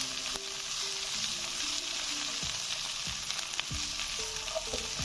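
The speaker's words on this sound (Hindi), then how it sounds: "इसको हमें अच्छी तरह फ्राई करना है भिंडी को ना, ताकि इसकी लेस ख़त्म हो जाए।" Okra frying in a pan for a chicken bhindi curry, a steady close sizzle and crackle running throughout with faint stirring clicks, no voices.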